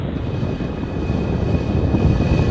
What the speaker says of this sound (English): And liftoff of the Falcon 9 and Starlink.